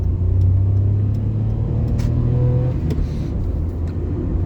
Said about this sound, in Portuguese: Vamos dar uma saída um pouco mais forte aqui com o ar ligado.